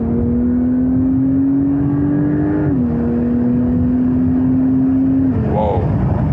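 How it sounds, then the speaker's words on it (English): A Porsche 911 Turbo S of the 992 generation accelerates hard in third gear. The engine drones loud and steady, dips briefly as the gear changes, then climbs again under continuous strong throttle. "go back to third gear for example, and then I can accelerate out"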